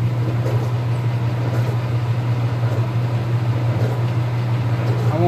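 A Speed Queen AWN412SP111TW01 washing machine under repair spins its drum up, a loud steady low motor hum with a rising whir close by and no talking.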